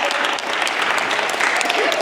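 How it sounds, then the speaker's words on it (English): A workshop group claps for the participants in a short, steady burst of applause at close range, filling the whole moment. "Hand clap for them"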